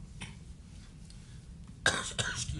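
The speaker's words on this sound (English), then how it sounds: "excuse my cough" A single sharp cough bursts out near the end, followed by a smaller second one, heard close and clear against a quiet courtroom room tone during a trial.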